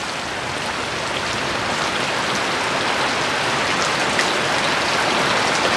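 Steady rain hisses down outdoors during a drone flight, a dense, even patter of drops that continues for the whole stretch.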